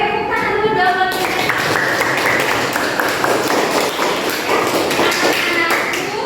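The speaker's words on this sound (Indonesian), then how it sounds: "tepuk tangan dulu dong" Children in an Indonesian school English class clap their hands together, a busy, uneven patter of many small hands with children's voices chattering throughout.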